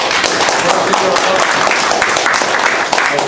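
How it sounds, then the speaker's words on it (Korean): An audience at a political party academy lecture breaks into sustained applause, dense clapping filling the room steadily for a few seconds. "보좌진들께 한번 박수 한번 부탁드리겠습니다"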